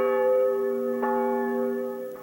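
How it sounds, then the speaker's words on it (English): A church bell at the Old Round Church in Richmond, Vermont, rings with a single sustained, resonant tone and long humming overtones that slowly decay, with a faint second strike near the end. "I've been ringing the bell for 25 years, and I give it a little kick to get it going."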